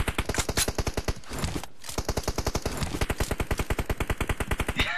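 Rapid automatic gunfire in a tactical shooter video game, heard as loud, steady bursts of evenly spaced shots that fill nearly the whole clip with only a brief pause.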